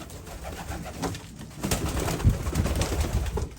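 Pigeons coo and murmur in low, rolling calls inside a loft, including young birds, with faint rustling and no talking.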